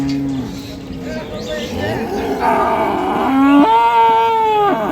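At the Ambari cattle market, a dairy cow lets out several drawn-out, low moos that grow louder toward the end, amid the murmur of market talk.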